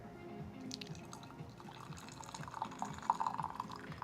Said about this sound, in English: and then we're gonna pour it out